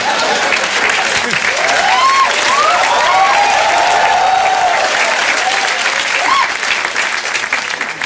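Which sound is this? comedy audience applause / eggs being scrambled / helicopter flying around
comedy audience applause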